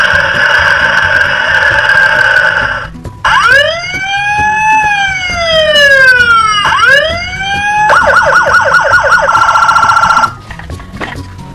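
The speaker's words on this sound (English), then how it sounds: "This police car is black, and it makes sounds and flashes its lights." Loud siren from a black toy police car cycling through several patterns, steady wail, rising and falling yelps, then rapid warbling, close and continuous with no talking.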